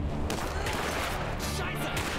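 Gunfire in the video game War Mongrels, a brief burst of distant shots in a noisy wash of game sound, quiet overall, with no clear voice.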